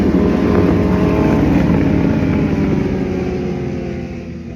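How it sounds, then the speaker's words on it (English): A group of motorcycles and a couple of cars roll past on a nearby road, a loud sustained engine roar with wind buffeting that slowly fades as they pull away. "a bunch of motorcyclists and a couple of cars and stuff."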